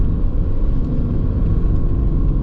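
A used Aston Martin Vantage, a British sports car fitted with a Mercedes engine, produces a steady, loud, deep rumble close by, with no talk over it.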